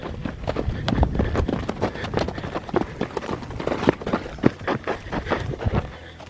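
A horse's hooves clop rhythmically on the ground in a steady trot during liberty circle training, close and loud, with some breathy movement noise between beats.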